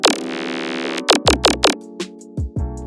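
A second bass layer from a Serum synth patch, a sine oscillator with added noise for a tearout gun bass, starts as a sustained buzzing tone and then breaks into a run of short, punchy stabs with growling pitch drops.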